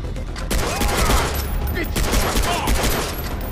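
Gunfire in the first-person shooter Far Cry 3, two loud bursts of rapid automatic shots close up, separated by a short lull, with heavy game noise throughout.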